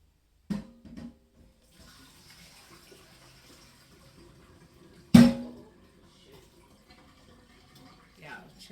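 Excess water is poured out of a canning pot while preserving grape juice. A soft splash and trickle runs under thumps and clanks of the pot and jars, set in a quiet kitchen.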